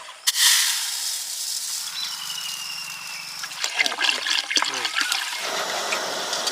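Water pours and trickles while snakehead fish caught from a canal are washed outdoors, opening with a splashy gush that settles into steady running and dribbling, close by, without talk.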